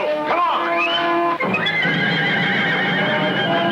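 Horses caught in quicksand whinny loudly and shrilly, one long neigh after another, close and piercing, with a brief break between calls and some background commotion.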